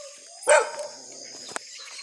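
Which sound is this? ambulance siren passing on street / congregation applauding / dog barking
dog barking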